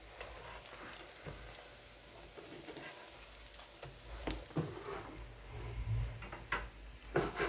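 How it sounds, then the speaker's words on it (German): Chicken burger patties fry slowly in a pan, giving a soft, even sizzle and crackle with scattered pops, fairly quiet and continuous, with no talking. "Und so lassen wir sie jetzt ganz langsam braten."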